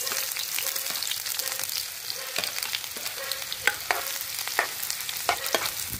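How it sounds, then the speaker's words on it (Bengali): Onions fry in hot oil with a continuous crackling sizzle, and sharp spits and utensil taps pop out now and then. "এখানে এবার এই তেলের মধ্যেই আমি পেঁয়াজগুলো দিয়ে দেবো"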